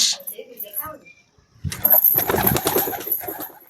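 Pigeons kept in a household loft coo and shuffle close by, with bursts of soft cooing and rustling wing movement; a person talks at the start.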